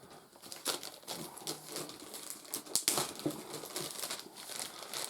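Crinkling and crumpling of plastic wrap as a big pile of Dungeon Saga board game cards is unwrapped, close up, with irregular rustles, a few sharp tearing snaps and no talk.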